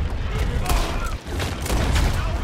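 Rapid gunfire in the video game Red Dead Redemption 2: a dense run of booming shots and thumps that blur into a steady loud barrage, with a short dip partway through.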